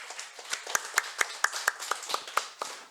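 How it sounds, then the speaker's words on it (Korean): Church congregation clapping in encouragement for meal and cleaning volunteers, a sparse, uneven patter of individual hand claps at moderate distance, about a dozen distinct claps over a few seconds in a quiet room. "우리 격려의 박수 하겠습니다"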